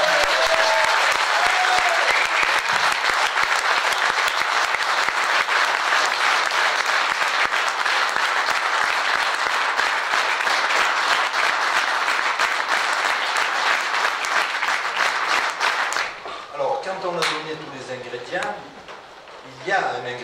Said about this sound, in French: s'il vous plaît, l'applaudissement pour les joueurs